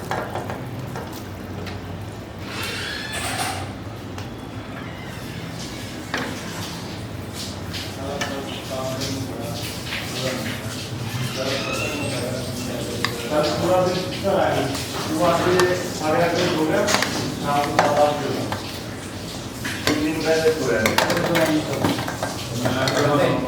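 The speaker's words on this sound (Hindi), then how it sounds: "इसमें हम चावल ऐड करेंगे।" Rice is added to sugar syrup in a pot and stirred, with scraping spoon strokes, metal clinks and light knocks against the pan growing busier over time, alongside a soft simmer and a voice talking intermittently.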